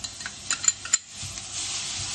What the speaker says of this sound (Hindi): अब इसमें डालेंगे हम कटी हुई शिमला मिर्च